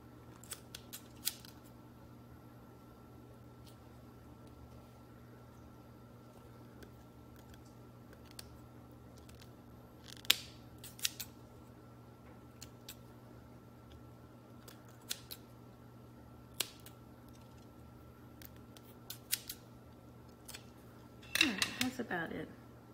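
Scissors snip repeatedly at close range while trimming an aroma bead, short crisp cuts scattered irregularly over a quiet hum, ending in a louder burst of rustling.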